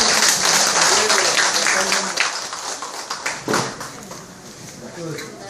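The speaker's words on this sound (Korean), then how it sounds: "다시 한번 큰 박수" An audience applauds a lecturer after a talk on family culture, loud dense clapping that thins out and fades toward the end, with voices audible beneath it.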